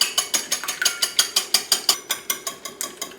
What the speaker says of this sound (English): I've cracked my 2 eggs, and the first thing we want to do is just break those up and whisk them together.